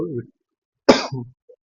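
A single sharp cough with a short throat-clearing tail, set between brief bits of speech.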